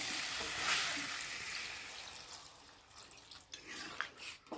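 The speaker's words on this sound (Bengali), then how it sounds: "জলটা দিয়ে দিলাম।" Water is poured into a pan of soybean curry, a soft rushing splash that gradually thins out, followed by faint drips and light stirring noises.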